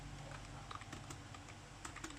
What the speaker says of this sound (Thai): คีย์บอร์ดดิ